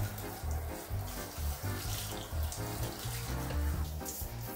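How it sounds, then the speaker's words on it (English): Shower water sprays steadily while a muddy dog is washed, a loud continuous hiss and splatter with uneven surges, close by and with no talk over it. "You're not escaping from the shower. Not until I clean you."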